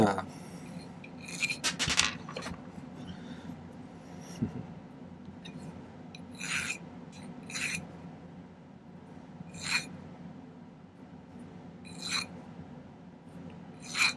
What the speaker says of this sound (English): I may do a little cleanup filing.